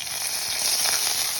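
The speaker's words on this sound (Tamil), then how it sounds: "ஒரு கடாயில் எண்ணெய், கடுகு, ஜீரா, கருவேப்பிலை போட்டு தாளிச்சுங்கோ." Mustard seeds, cumin and curry leaves sizzle in hot oil in a kadai, giving a steady, close, bright hiss with faint crackling and no voices.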